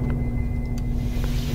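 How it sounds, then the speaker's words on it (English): A ventilation fan inside the SCP Containment Breach game runs as a steady low droning hum with a faint tonal whine, constant and moderately quiet with no voices. "That's the sound of the fan's working. That means the ventilation's working."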